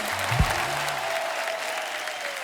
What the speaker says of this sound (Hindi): आप सबकी तालियां ऐसे बजती रहनी चाहिए।